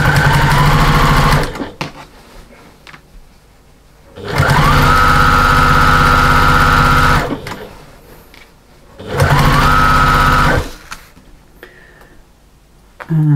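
Sewing machine stitching through layers of fabric for an armchair sewing caddy: three loud, steady whirring runs of a few seconds each, split by short quiet pauses, close up.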